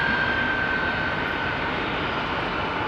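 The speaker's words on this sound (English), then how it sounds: "Listen to these engines, man. Lovely old Pratts," A jet airliner with Pratt & Whitney engines departs Heathrow's runway 27R, a loud, steady broadband engine roar held at full power throughout without voices.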